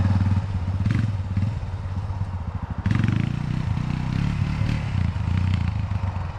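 A Honda TRX450 ATV engine runs hard through a wheelie practice run, with a loud, steady throaty drone that briefly dips and then surges back up partway through.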